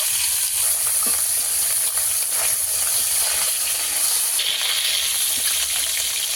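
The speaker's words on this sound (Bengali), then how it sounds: "মাছগুলো আমি একদম লাল লাল করে ভেজে নেব" Pakal fish frying in oil in a pan, a loud, dense, continuous sizzle close by, with no voices over it.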